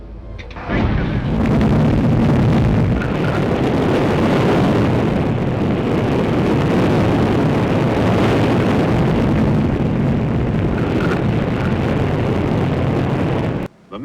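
The Explorer 1 rocket lifts off, sending out a sustained, loud roar that rumbles without a break for about thirteen seconds and then cuts off sharply.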